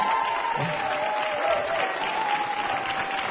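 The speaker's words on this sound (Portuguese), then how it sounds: "Muito obrigado pelos vossos aplausos, pela vossa energia." Audience applause at a televised event in Vigo, Galicia, a dense, steady wash of clapping from a crowd, even and sustained throughout.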